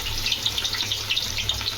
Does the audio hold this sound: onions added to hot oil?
yes